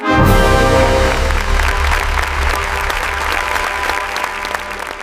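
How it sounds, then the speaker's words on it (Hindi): Applause sound effect for a royal court scene in a fairytale story, loud dense clapping from a crowd that starts abruptly and gradually tapers, layered over a soft musical drone. "दरबार तालियों से गूंज उठा।"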